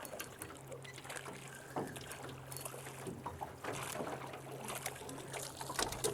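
A small fishing boat's outboard motor idles at a steady low drone while trolling for trout on open water, with faint water lapping and splashes around the hull throughout.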